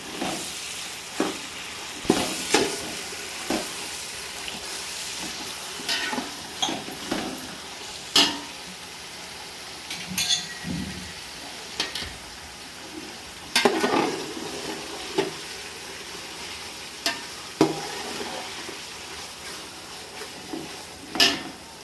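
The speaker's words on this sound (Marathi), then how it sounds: "लगेचच ह्यात मी टोमॅटो टाकत आहे. ते परतून घेत आहे." Tomatoes being sautéed for khichdi, stirred in a sizzling pan, with a steady fry hiss broken by repeated scrapes and clanks of a spoon against the pan, close and without talk.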